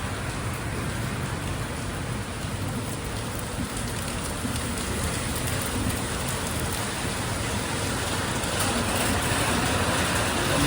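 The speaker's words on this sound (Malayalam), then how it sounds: "നല്ല മഴയാണ്." Heavy rain pouring down at Payyanur railway station in Kerala, a steady dense hiss of drops drumming on surfaces that holds loud and unbroken throughout, swelling slightly toward the end.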